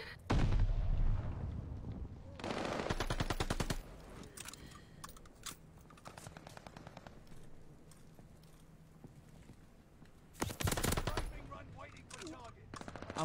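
Rapid bursts of gunfire in a ranked online shooter match, loud automatic volleys at the start, around 3 seconds and again near 11 seconds, with scattered quieter shots between.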